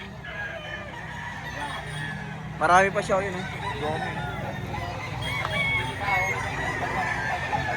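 Roosters and chickens at a chicken market in Lipa, Batangas, give a loud crow followed by scattered clucks under ongoing conversation.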